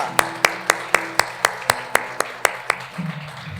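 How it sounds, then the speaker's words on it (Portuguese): A church congregation claps in unison, a dozen sharp, evenly spaced claps in a steady rhythm, close and distinct, fading into a faint murmur at the end. "Dê um aplauso ao Senhor."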